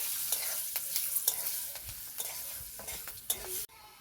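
Turmeric powder frying in hot oil in a pan while making moong dal with cucumber. A steady, close sizzle runs throughout with repeated sharp stirring scrapes, and it drops off abruptly near the end.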